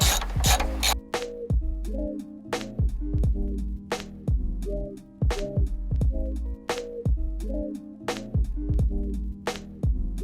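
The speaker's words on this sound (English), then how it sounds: "using the OEM screw that came out of that location," An OEM screw is driven back into a Nissan S14 door card during installation, giving steady, close ratcheting clicks in quick repeated bursts with brief pauses between strokes.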